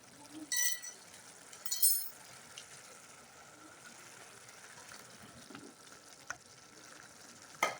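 Koftas dropped into simmering mutton curry gravy make faint soft plops and a couple of brief clinks of a utensil against the pot over a low, steady bubbling.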